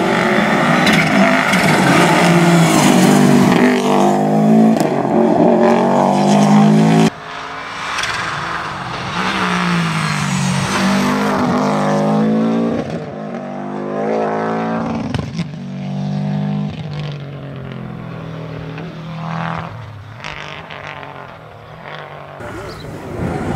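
Historic rally cars race past on a closed road stage at the 2021 Avilés historic rally, engines loud and close, revving and fading in several passes with abrupt changes as each car goes by.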